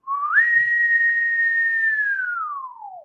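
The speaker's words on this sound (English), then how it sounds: "And he whistled." A single long whistled note, sliding up at the start, holding steady and then gliding down at the end, loud and close with no talk.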